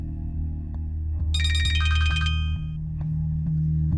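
A mobile phone rings indoors with a bright, melodic ringtone over a steady low hum, the tune playing for a second or so in the middle before fading back to background drone.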